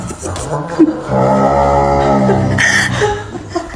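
A dog lets out a long, low, drawn-out moaning howl that sounds like a cow's moo, loud and close, with a couple of short yips before it.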